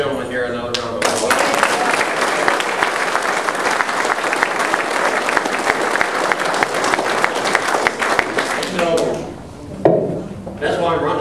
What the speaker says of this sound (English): Let's give this gentleman here another round of applause.